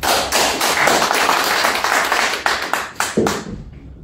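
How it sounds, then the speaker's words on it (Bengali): An audience at a DXN business meeting claps together in dense, steady applause that fades out after a few seconds. "সো ওনাদের দুজন জনের করতালি হয়ে যায়"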